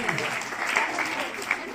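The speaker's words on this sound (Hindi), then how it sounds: "इसके लिए तालियां लगाएं" A school classroom audience claps for a student's correct answer in a science quiz, a short burst of brisk, close applause from a small group.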